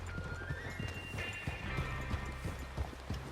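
Horse hooves clop rhythmically at a quick pace, with a faint whinny rising midway, all fairly quiet against a steady background, in the video game Red Dead Redemption 2.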